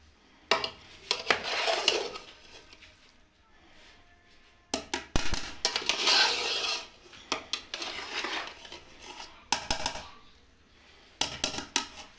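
A serving spoon scrapes and clanks against a pot while spicy chicken biryani rice is dished out, in loud irregular bursts of metallic scraping separated by short pauses.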